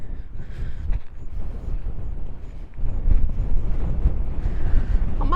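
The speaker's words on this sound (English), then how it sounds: "Oh, it's windy." Strong wind blowing on the coast near a lighthouse, buffeting the microphone in a continuous heavy low rumble that surges louder partway through.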